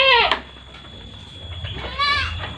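A young goat kid bleats twice, a loud wavering cry at the start and another near the end, with quiet background noise between.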